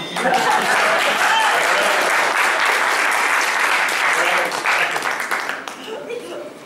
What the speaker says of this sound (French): surtout quand j'ai un public chaud qui m'applaudit.